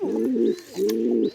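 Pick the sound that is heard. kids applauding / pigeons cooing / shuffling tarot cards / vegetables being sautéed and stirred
pigeons cooing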